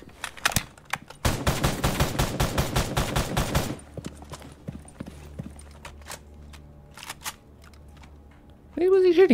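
Rapid bursts of video game gunfire crackle in quick succession, one dense volley lasting a few seconds, followed by sparse scattered shots and a brief voice at the end.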